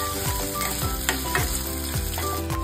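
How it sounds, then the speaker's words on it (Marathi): Diced potatoes fry in a hot pan, making a loud, steady sizzle with occasional stirring scrapes, heard close and alone. "पोटॅटो थोडासा गोल्डन होईपर्यंत आपल्याला फ्राय करायचं"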